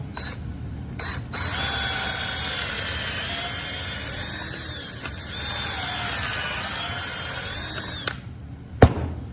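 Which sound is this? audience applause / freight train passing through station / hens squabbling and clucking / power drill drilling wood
power drill drilling wood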